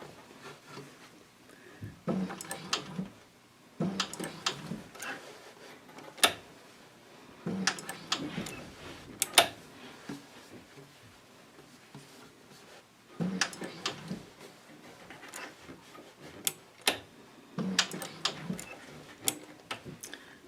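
A sewing machine stitches a tote bag made from upcycled denim jeans, running in short rhythmic bursts of rapid ticking clatter separated by quiet pauses, close and moderately soft.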